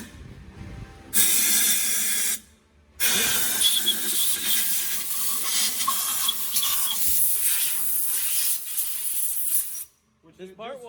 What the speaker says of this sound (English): This part washer does go pretty hard though.